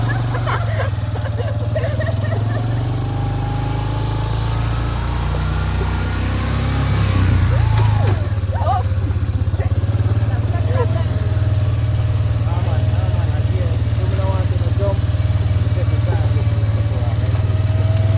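An ATV engine idles and putters close by throughout a Jamaican trail tour, a steady low drone with a brief rise in revs, while people talk over it.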